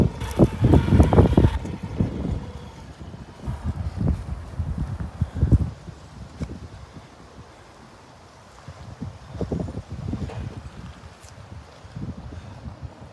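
Gusts of wind buffet a microphone outdoors, producing low, irregular rumbling thumps that swell loudly at first, ease off, then surge again in bursts, with no talking.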